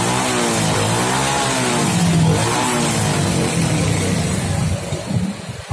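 A Honda Supra X motorcycle engine revving close by after carburetor tuning, rising and falling through several throttle blips with a loud mid-pitched drone, then settling back toward idle near the end.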